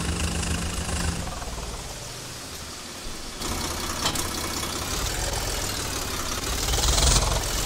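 Swaraj 855 tractor engine in Farming Simulator 22, a steady mid-pitched diesel rumble with knocking, idling low at first and then revving up louder toward the end, heard alone.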